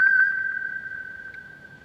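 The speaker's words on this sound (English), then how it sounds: "Now I'm gonna start playing that when one of us goes off too long, you're gonna hear the whistle" A steady whistle sound effect played as a cue during a live sports talk show, one sustained clear tone lasting nearly two seconds, fairly loud at first and slowly fading.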